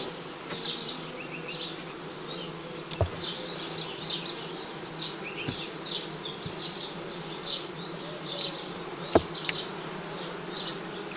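Many bees buzz steadily around a hive, a dense droning hum with individual insects whizzing close now and then.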